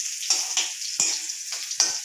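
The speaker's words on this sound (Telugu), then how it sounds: "ఇలా వేపేసుకొని చక్కగా అల్లం కూడా ఇలా ఆయిల్లో చక్కగా ఫ్రై చేసేసుకొని" Ginger fries in oil for chutney, giving a steady close sizzle with short bursts of crackle roughly every half second, as if the pieces are being stirred in the pan.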